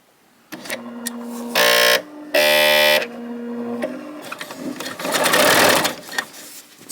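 A Bernina L890 sewing machine stitches along the edge of a quilt in two loud, fast bursts of rapid mechanical chatter, with quieter motor whirring before and after.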